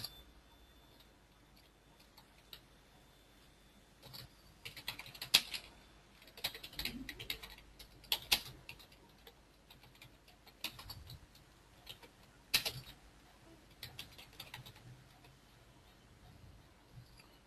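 A password is typed on a computer keyboard while setting up an Oracle application server. Light, sparse clicks and taps come in scattered bursts over quiet room noise.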